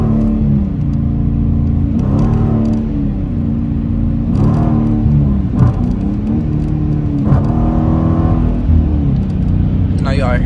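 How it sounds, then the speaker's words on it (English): A Dodge Challenger RT cruises on a highway, its engine droning and rising in repeated revving swells over a steady road rumble, with someone talking over it. "Y'all hear the supercharger?"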